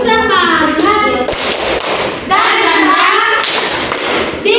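A classroom group of children claps in a rhythmic cheer, sharp claps and thumps close and loud, mixed with children's shouting voices throughout.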